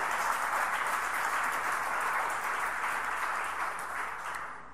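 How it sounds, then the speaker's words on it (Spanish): A church congregation claps together in a full, sustained round of applause that holds steady and then tapers slightly at the close. "dé un aplauso al Señor."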